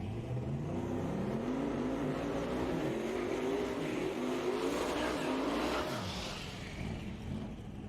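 Drag racing cars at a Street Outlaws event, a Grand National and a ZR1 among late model cars, with a loud engine roar rising in pitch as they accelerate down the strip, then fading.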